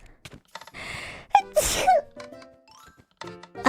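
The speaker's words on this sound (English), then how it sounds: "Oh, I feel a sneeze coming." A streamer's sneeze sounds once midway, a sharp burst with a gasp before it, framed by short bits of talk and a few light clicks.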